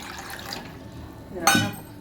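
Water is poured into a three-litre pressure cooker for tiffin sambar, a soft liquid splash and gurgle rising briefly near the end amid low kitchen background noise.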